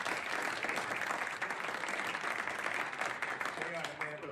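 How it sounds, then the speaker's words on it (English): Steady applause from a crowd, moderately loud and unbroken, with a voice briefly rising over it near the end. "And then applause."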